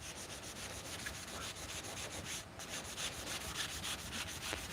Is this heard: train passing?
no